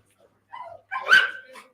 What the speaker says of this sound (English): Bo is another handsome dog